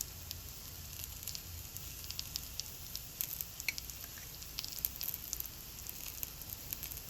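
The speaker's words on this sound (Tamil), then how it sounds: "சைடும் நல்லா ஷாலோ ஃப்ரை பண்ணி எடுத்துக்கோங்க." Broccoli and sweet potato cutlets shallow frying in oil make a soft, steady sizzle dotted with small crackling pops, close by and fairly quiet, with no voices.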